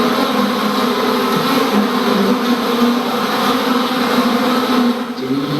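Honeybees swarm around hives at a prison beekeeping site, a dense continuous buzzing that stays close and loud throughout.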